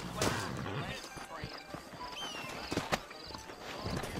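Horse hooves clip-clopping at a walk while riding in Red Dead Redemption, steady close hoofbeats under someone talking, with a brief whinny.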